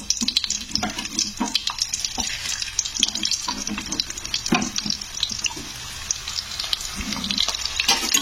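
Onions hit hot oil in a pan while making homemade herbal hair oil, giving a continuous crackling sizzle with scattered pops and stirring scrapes, close and fairly loud, with no talk.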